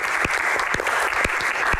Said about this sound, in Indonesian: tepuk tangan luar biasa untuk Ibu Halida.